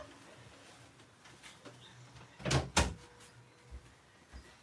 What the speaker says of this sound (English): Let me shut my door so you can't hear that.